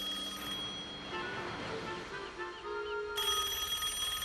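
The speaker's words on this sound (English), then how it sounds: "they hear these telephone booths ringing" Telephone booths ring in a cartoon scene, a faint, steady electronic trill that continues for several seconds with a brief break partway through, playing quietly under background music.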